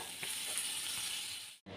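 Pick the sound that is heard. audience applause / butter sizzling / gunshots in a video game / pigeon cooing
butter sizzling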